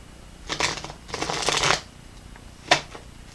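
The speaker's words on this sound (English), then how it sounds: "Shuffle up the Witch's Tarot for you, Aries." A Witch's Tarot deck is shuffled in two papery bursts, the second longer and riffling, followed by one quick crisp card flick, all close and fairly soft with no talking.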